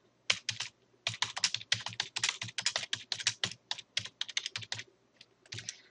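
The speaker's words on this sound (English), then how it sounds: "I'm going to type one." Rapid typing on a computer keyboard, a steady run of close, crisp key clicks in bursts with brief pauses, alone without any voices.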